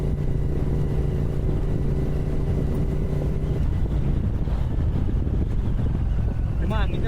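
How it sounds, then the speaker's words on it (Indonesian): Strong wind gusts across a beach on an Indonesian island, a loud, constant roar buffeting the microphone, with someone talking underneath and a short squeaky sound near the end. "Cuma anginnya lumayan kenceng ya"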